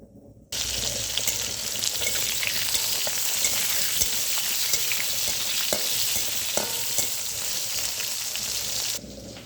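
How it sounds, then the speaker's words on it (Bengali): Potato pieces fry in a hot kadai for a summer rohu fish curry with vegetables, a steady, moderately loud hiss with scattered pops and stirring that starts suddenly and stops near the end. "এবার কড়াইতে আলুগুলো দিয়ে দেব।"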